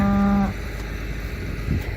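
A cow moos once, loud and close for about half a second, then fades into quiet farm ambience with faint rustling.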